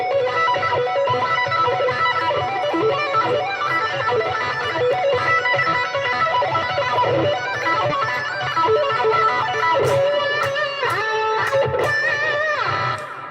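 A guitar plays the opening riff of a song, a busy run of picked notes and chords that stays loud and close throughout, with a few sharp accented strums near the end and no talking.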